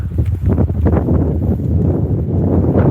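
Strong wind buffets a microphone outdoors at Withernsea on the coast, a loud continuous low rumble with gusty surges that never drops away across the few seconds.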